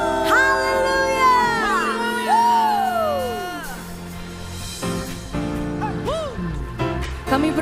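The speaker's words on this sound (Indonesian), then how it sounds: "Yang percaya berikan sorak-sorai tepuk tangan untuk Tuhan Yesus." A church congregation at a worship service cheers in loud, overlapping shouts and rising whoops, with sustained voices ringing through the hall for several seconds.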